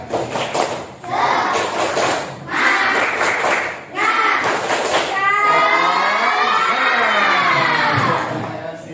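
Children in a classroom lesson doing a rhythmic clapping cheer, bursts of claps and shouted chanting voices in a lively group, ending in a drawn-out shout.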